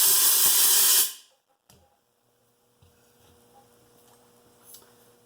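A short, loud blast of compressed air hisses through a Marauder PCP airgun tube for about a second, then cuts off, followed by faint clicks and handling noises.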